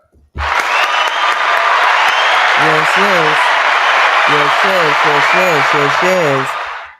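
A large audience bursts into loud, sustained applause and cheering for a master teacher, with voices whooping and shouting over the dense wash of clapping for several seconds before it cuts off.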